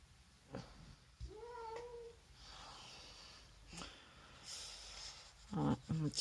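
An injured pet cat gives a few soft, plaintive meows and wheezy breaths, close but quiet, amid light rustling and faint background noise.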